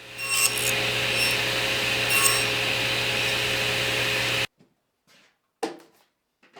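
Power saw nibbling tenon ends on pine door parts against a stop block, a steady loud whine for about four and a half seconds, then stopping abruptly, followed by a few brief faint knocks in near silence.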